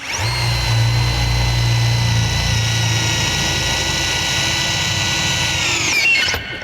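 A power drill whines continuously at high speed boring through steel, loud and close, then spins down abruptly at the end.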